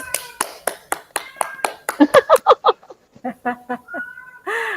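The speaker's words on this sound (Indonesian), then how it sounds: "Beri aplaus" Applause in an online training session with a facilitator, made of a handful of sharp, evenly spaced claps followed by quicker clustered ones, close and loud, with voices breaking in near the end.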